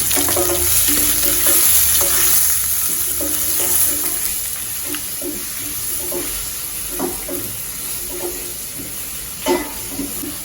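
Onions sizzle and crackle steadily in a hot pan while making sambar, with occasional stirring scrapes and clinks of a utensil against the pan, no voices.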